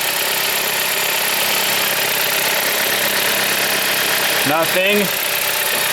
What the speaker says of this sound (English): The car is running. It sounds good.